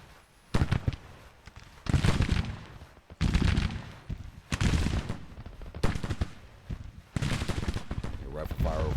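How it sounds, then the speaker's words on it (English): Volleys of Civil War rifle fire in Grand Tactician: The Civil War, sharp crackling bursts arriving in repeated waves every second or so, fairly loud and close, with a brief voice-like sound near the end. "Rifle fire over this way now"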